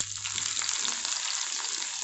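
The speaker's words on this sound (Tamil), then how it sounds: "இப்போ வெங்காயம் சேர்த்துக்கலாம்" Sliced big onions and green chillies frying in hot oil in a pan for white vegetable kurma, a steady close sizzle with faint occasional stirring, no voices.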